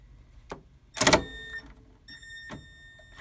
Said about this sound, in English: let me take my handy dandy Milwaukee, make sure it's spinning the right way, and let's take out